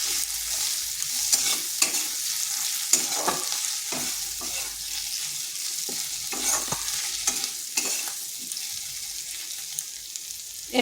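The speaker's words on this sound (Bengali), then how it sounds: "মশলাটার সাথে একটু কষে নিচ্ছি।" Raw green banana curry sizzles and fries in a pan with spices and green chilli, with steady close scraping and stirring strokes over a continuous hiss, no talking.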